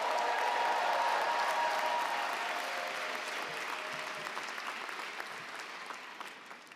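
A crowd applauds a graduating class at a Black graduation celebration, steady dense clapping that starts strong and gradually thins and fades, heard from a distance in a large hall.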